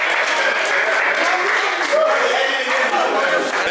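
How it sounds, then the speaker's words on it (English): A group of young people in Toronto break into loud, dense applause mixed with chatter and laughter close by. "Can I get a round of applause?"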